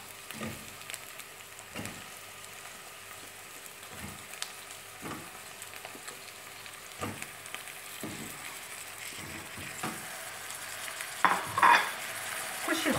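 Onion lightly browned in olive oil and table oil with green vegetables added, frying with a soft, steady sizzle and occasional stirring clicks and scrapes of a utensil in the pan, fairly quiet and without talk.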